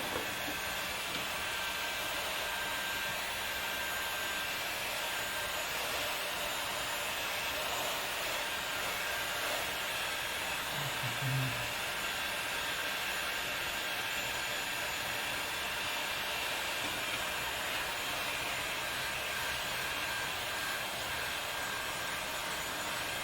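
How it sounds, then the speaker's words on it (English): A heat gun blowing hot air onto grip tape on an electric unicycle pedal, a steady, even whooshing hiss held for the whole stretch without pauses, recorded fairly close with no talking. "what we're gonna do is use a heat gun to flatten it out"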